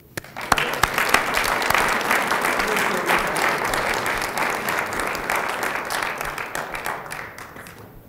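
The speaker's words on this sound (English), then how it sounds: "could you please join me in a big round of applause" Sustained applause from a dinner audience at a state museum's annual awards night for the Morrill Hall Carpenter Award. The dense, even clapping fills the whole stretch, begins abruptly, then slowly thins toward the end.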